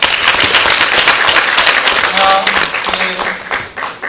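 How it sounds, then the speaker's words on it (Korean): Audience applause at a large public discussion event, a dense steady wash of clapping over the whole stretch, with a voice briefly speaking over it midway. "자, 박수 한번 부탁드리겠습니다."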